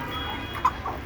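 Desi chickens make soft clucks nearby, with one short sharper note in the middle and a fainter one after it, over a quiet low background.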